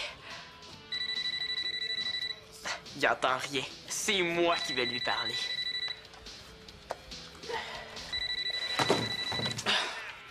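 An electronic telephone rings in repeated bursts, with people talking between and over the rings.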